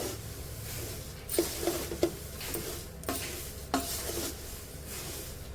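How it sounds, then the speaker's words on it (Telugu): Poha flakes being stirred in a pan for a chudwa snack, soft scraping and rustling with a few light taps of the spoon against the pan, quiet and close, no talking. "ఇప్పుడు ఈ అటుకుల్ని బాగా కలిసే వరకు కలుపుకోవాలి"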